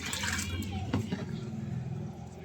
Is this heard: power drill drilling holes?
no